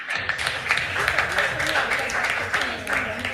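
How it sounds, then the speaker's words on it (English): Audience applause for competing school teams at a regional quiz contest, a steady dense wash of many hands clapping that sustains evenly across the whole stretch. "Let's give them also a big round of applause."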